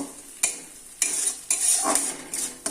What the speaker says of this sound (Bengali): হলুদ গুঁড়ো আর রেড চিলি পাউডার দিয়ে ভালো করে মশলাটাকে একটু কষিয়ে নেব